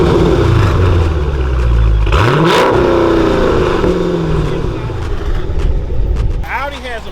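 V8 car engine revving, loud and close, a continuous rising roar with a sharp gear-change dip partway through, then climbing again while a voice talks over it.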